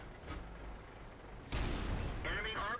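A tank cannon fires in World of Tanks from an M46 Patton tier 9 medium tank, a sudden loud booming blast midway through a low rumbling battle ambience, followed by a sustained roar and faint mechanical tones.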